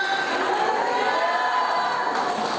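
Church congregation cheering and shouting with scattered clapping during a worship service, a steady, loud crowd roar of overlapping voices throughout.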